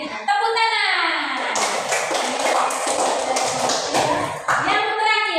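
Children in a Catholic religion class at a school in Merauke clap in a burst of quick, close hand claps lasting a few seconds. Voices speak just before and after the clapping.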